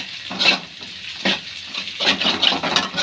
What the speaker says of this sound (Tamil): இது நல்லா எண்ணெயில் ஃப்ரை பண்ணணும்